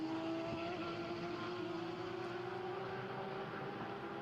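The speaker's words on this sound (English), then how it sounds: "I did hear another car coming to pit lane." A Porsche race car pulls into the pit lane at the Misano circuit during a Porsche Sports Cup Suisse race, its engine a steady, continuous drone with a slowly rising pitch, fairly loud and with no talk over it.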